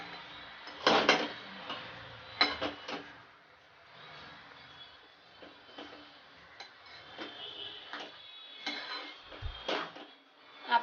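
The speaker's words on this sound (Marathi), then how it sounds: "आता मी याला व्यवस्थित असं हलक्या हाताने तुपामध्ये परतून घेणार आहे" Grated carrot is gently stirred in ghee in a pan, giving soft intermittent clicks and taps of a spoon against the metal, faint and close with quiet stretches between them.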